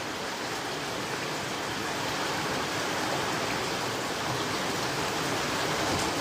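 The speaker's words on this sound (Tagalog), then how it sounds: "ang lakas ng ulan dito guys" Heavy rain pours down steadily in Singapore, a dense, loud, unbroken wash of noise close by, with no voices.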